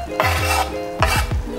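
Ingredients tipped into a pan of onions while cooking a vegan mac and cheese, heard as two clattering knocks of a utensil against the pan with a soft stir and faint sizzle in between.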